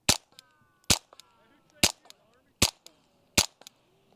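A suppressed handgun fires 970 fps ammunition in five sharp, evenly spaced shots about three-quarters of a second apart, each a loud, short crack followed by faint metallic clinks.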